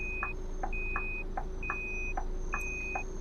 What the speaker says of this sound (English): You can beep the horn again if you need